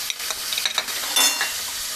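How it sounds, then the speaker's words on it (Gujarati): Curry leaves, ginger and green chilli hitting hot oil for a tempering for rasavala khaman, bursts of sharp sizzling and spattering with a louder flare near the middle, close and with no voices. "અને આ મીઠા લીમડાના પાન છે એ પણ એમાં નાખીશું।"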